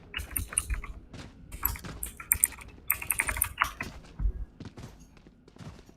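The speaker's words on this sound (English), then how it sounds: "my co-caster is mashing her keyboard" A co-caster's computer keyboard being mashed during a Valorant esports broadcast, rapid loud clattering keystrokes in bursts and flurries, close up with no talking.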